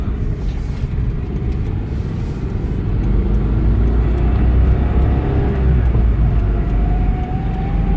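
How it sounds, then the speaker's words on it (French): A Citroën GS engine pulls in second gear from inside the car, a close, steady, loud rumble that climbs in pitch as the revs rise toward the end. "J'adore le chant de la seconde. C'est vraiment propre à la GS."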